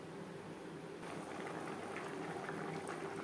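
Egg curry gravy bubbling in a pan, a steady, soft simmering hiss with small popping bubbles throughout and no voices.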